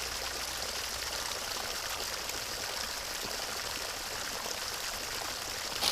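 Steady hiss of running water pouring continuously, close and moderately loud, with no talking, as water is cleaned for ducks.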